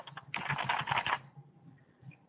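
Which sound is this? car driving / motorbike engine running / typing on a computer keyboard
typing on a computer keyboard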